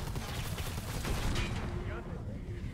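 Rapid bursts of gunfire in the video game Predator: Hunting Grounds rattle continuously, dense and noisy, filling the whole moment with crackling shots.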